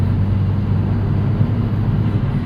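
Steady interior drone from a turbocharged 2009 Chevrolet Cobalt SS driving in boost at cruising speed, loud and continuous low engine and road rumble without speech.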